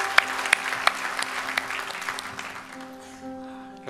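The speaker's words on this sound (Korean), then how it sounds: "하나님께 감사의 박수 올리겠습니다." Church congregation applauds during a Sunday worship service at Irvine Onnuri Church, a dense patter of clapping with a few sharp louder claps that tapers off, leaving a steady held keyboard tone underneath.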